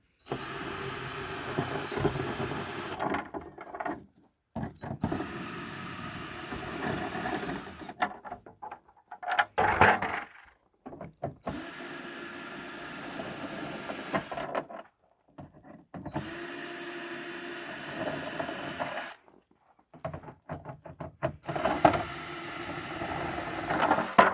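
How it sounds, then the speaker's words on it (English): A power drill whirs in several long bursts separated by short pauses, loud and close, as screws are driven in. "I'm using self-tapping screws just to hold it to the body"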